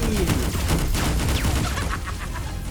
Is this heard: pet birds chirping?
no